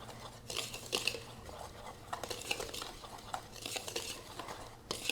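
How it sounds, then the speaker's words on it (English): Melted butter being stirred into dry homemade donut ingredients in a bowl, with soft repeated scraping and clinking of a utensil against the bowl, close and steady with small irregular bursts. "I like to just mix it around"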